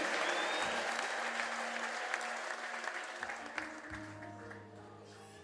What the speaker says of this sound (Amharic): እስቲ አጨብጭቡ ለእግዚአብሔር።